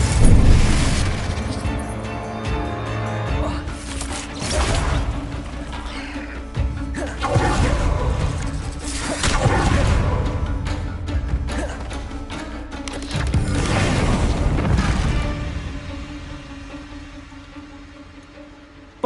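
Booming Confringo spell blasts in the Hogwarts Legacy video game, several heavy explosive hits spaced a few seconds apart with rumbling, crackling tails over a mechanical game soundscape, loud and close.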